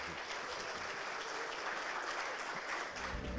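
Steady applause from a large audience follows the Prime Minister's speech at a St Kitts and Nevis event, a dense, even patter of clapping that fills the whole stretch without a break.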